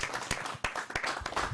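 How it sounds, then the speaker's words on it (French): A studio audience on a television talk show applauds a musician guest, with quiet, dense clapping and a few sharper individual hand claps standing out irregularly. "On va l'applaudir bien fort."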